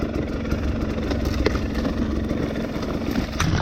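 A 2020 XC250 TPI two-stroke dirt bike idles with a steady, rattly engine burble that holds a constant loud level throughout.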